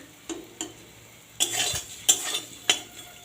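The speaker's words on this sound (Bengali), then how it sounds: "আলুটা আমার সুন্দরভাবে ভাজা হয়ে গেছে" Potatoes fry and hiss in a pan while a utensil scrapes and stirs in several bursts; no voices.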